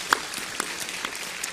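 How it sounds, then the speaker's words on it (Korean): A church congregation applauds the bereaved family during a worship service, a brief, moderately distant patter of many hands clapping. "우리 유가족이 사랑과 격려의 박수 부탁합니다."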